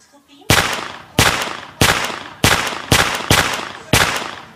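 An iPod app plays gunshot sound effects as seven sharp blasts, each loud crack trailing into a short decaying echo, spaced at roughly even half-second-plus intervals.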